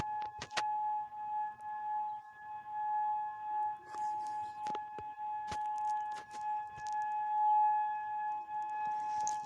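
A siren wails far away as a thin, sustained steady tone, faint behind scattered clicks and rustles nearby, with no voices.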